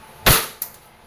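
A WE airsoft Glock 19 Gen 4 gas pistol fires one sharp, loud, close shot, followed a moment later by a fainter metallic clack from the slide.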